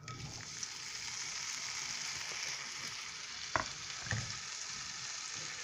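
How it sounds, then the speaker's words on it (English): Cubes of bologna sizzle in a hot pan for a bologna breakfast, a steady close crackle with a couple of sharper pops near the end, no voices. "The pan is hot. Let's throw them in."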